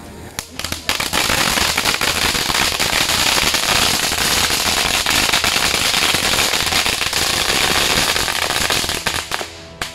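A "Goodbye 100" firecracker string set off for New Year bursts in a long rapid chain of loud, close cracks and pops lasting several seconds.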